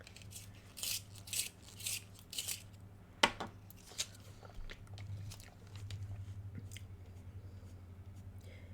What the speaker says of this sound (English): Let's sharpen our pencil.